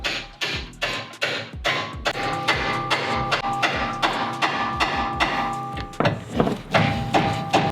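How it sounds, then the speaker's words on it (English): Repeated metal-on-metal hammer blows strike the end of a pickle fork driven between a car's suspension parts to pop a ball joint loose, a steady series of sharp ringing clanks close by with no talk. "we're gonna put the pickle fork right there, and we're gonna smack it on the end with a hammer"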